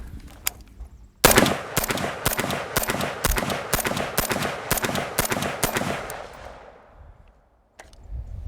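An unsuppressed LAW Tactical ARIC rifle fires a rapid string of about a dozen loud, sharp shots in quick succession, each cracking close by, followed by a long fading echo and a short silence before a faint noise.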